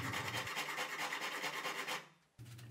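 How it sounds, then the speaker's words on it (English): A handsaw cuts a slot into the wooden handle of an old sledgehammer, its close rasping back-and-forth strokes steady and even before a short pause, then resuming. "To cut the slot, I used a handsaw."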